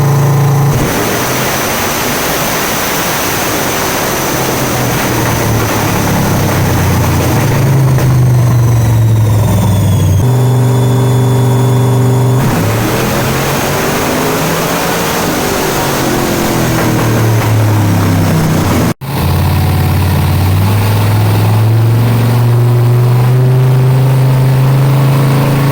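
A car engine on a chassis dyno revs loud and close through several sustained passes, the pitch climbing under full throttle, briefly dropping, then climbing again, with no talk.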